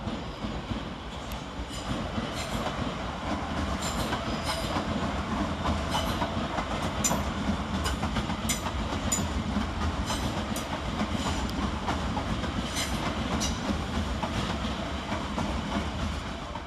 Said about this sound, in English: Next up to depart is 350-259 and 350-234 with the 1446 London Northwestern Railway service to Crewe